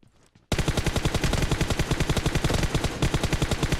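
Sustained automatic gunfire in the video game PUBG Mobile, loud and close, erupting after a brief quiet moment and continuing as a rapid, steady stream of shots to the end.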